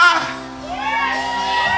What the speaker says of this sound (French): des cris de joie